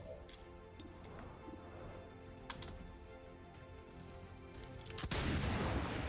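Pistol fire in XCOM 2, a series of sharp shots spread over several seconds beneath steady game background noise, ending in a louder burst.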